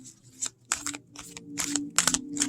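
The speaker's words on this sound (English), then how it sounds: "we're going to shuffle the deck, see how it shuffles." A large deck of archetype cards is riffled and shuffled by hand in several quick bursts of crisp papery flutter, each lasting a fraction of a second, close up with faint talk underneath.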